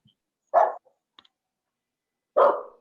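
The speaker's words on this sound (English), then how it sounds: "The dogs getting excited." Two excited dogs give two separate sharp barks about two seconds apart, fairly close, with a tiny yip and near silence in between.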